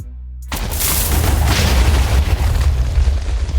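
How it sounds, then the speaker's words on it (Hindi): A stack of TNT minecarts blows up in Minecraft: a sudden loud, deep boom after a moment of quiet, then a dense rolling rumble of chained blasts that carries on to the end. "तो अब जितनी माइनकार्ट स्टैक हो गई उसके बाद हमें इसे फोड़ना है"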